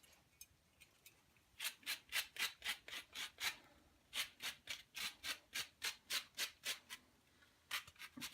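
Lemon zest is rasped off a lemon on a grater for lemon chicken, quick rhythmic scraping strokes in several bursts, close and fairly quiet, with no voices.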